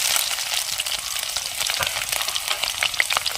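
Garlic sizzling and frying in hot oil with fenugreek seeds for a fish curry, a steady bright crackle with small pops throughout, close and continuous with no talking.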